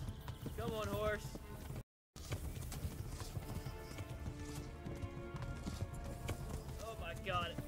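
Rapid hoofbeats clip-clop at a steady gallop in the video game Kingdom Come: Deliverance, with a horse whinnying at the start and end, layered over game music and voices talking.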